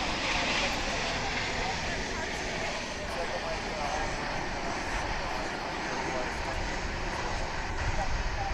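A jet airliner bound for Tokyo Haneda roars steadily at DFW International Airport, a broad continuous engine rush that holds level for several seconds from a moderate distance.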